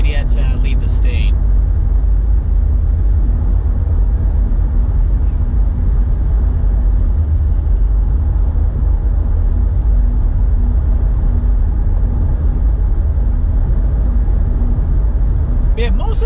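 Steady low engine and road rumble from a car cruising a freeway stretch of US 23 northbound through open countryside, a continuous drone with tire roar throughout and a couple of brief higher clicks near the start and end.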